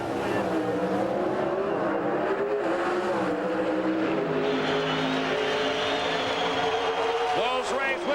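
Loud, continuous roar of Oldsmobile drag race cars at a 1991 NHRA event, sustained engine drone with rising harmonics as they launch, with an announcer talking over it throughout.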